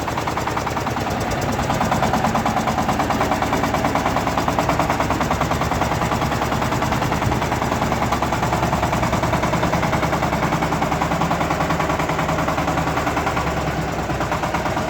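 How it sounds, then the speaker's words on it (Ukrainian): A small diesel engine of a belt-driven Shifeng mini tractor chugs and rattles continuously at a fast, even rhythm, loud and close, as the tractor drives along. "Тракторець їде СМТ Смоліно."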